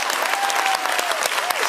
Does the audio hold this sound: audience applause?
yes